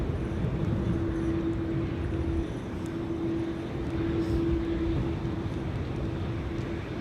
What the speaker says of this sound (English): an E2 in the background landing